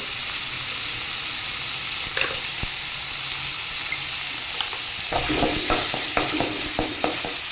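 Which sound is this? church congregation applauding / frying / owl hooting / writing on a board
frying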